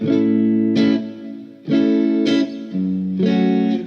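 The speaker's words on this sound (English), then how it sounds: "But this is a clean sound." Clean electric guitar chords through a preamp pedal ring out with a wet reverb tail, three strummed phrases in a row, played alone without talking.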